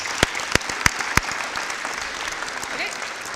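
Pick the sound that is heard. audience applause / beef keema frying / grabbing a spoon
audience applause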